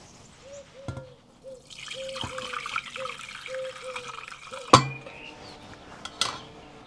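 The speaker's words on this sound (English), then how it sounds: "The next stage is to sieve the lemon peelings from the liquid." Lemon peel liquid poured through a regular kitchen sieve for homemade lemonade, a soft steady trickle and drip of liquid close by, with a few sharp knocks of the sieve against a bowl.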